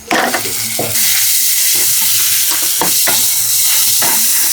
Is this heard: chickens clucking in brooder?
no